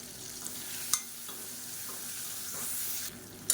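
Tomato and onion sauté in a pan with salt and turmeric, a soft continuous sizzle near at hand, marked by a few light clicks of the stirring spoon.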